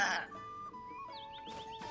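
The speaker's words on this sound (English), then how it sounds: "White goat. Hello," A white goat bleats in Zelda: Tears of the Kingdom, a short wavering cry heard close and quietly amid soft game ambience.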